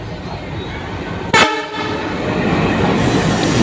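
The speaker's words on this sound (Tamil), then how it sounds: "நம்ம ட்ரெயின் வந்தாச்சு. இது டீசல் இன்ஜின் ட்ரெயின் தான்." A sharp horn blast rings out briefly as a diesel-engine express train arrives at a station, the engine's steady rumbling drone continuing loudly throughout.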